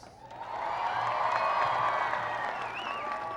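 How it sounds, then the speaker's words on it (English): Sustained applause and cheering from a large outdoor crowd at a 1998 presidential event in Hagåtña, Guam, honoring a vocalist; steady, dense clapping that swells and holds loud throughout. "with another round of applause"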